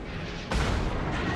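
Shells strike a warship in World of Warships with a sudden heavy booming impact that rolls into a rumbling burst of noise.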